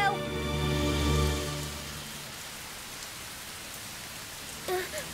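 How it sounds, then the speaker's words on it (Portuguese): Steady rain falls with a constant hiss of drops, while a couple of voices speak briefly near the start and again near the end. "Ai, já tá chovendo."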